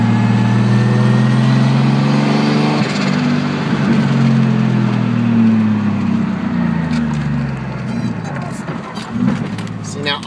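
A Datsun Z S30 fitted with an RB30 engine drives by up close, its loud, steady engine drone rising and falling with throttle and gear changes and easing off toward the end.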